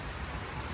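Heavy rain pours down in a steady, dense hiss with a soft low rumble, close and continuous, with no voices.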